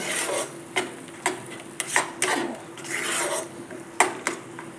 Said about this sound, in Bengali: এর মধ্যে এবার পালংয়ের পেস্টটা দিয়ে দেব দিয়ে একটু একসঙ্গে কিছুক্ষণ আমি মিশিয়ে নেব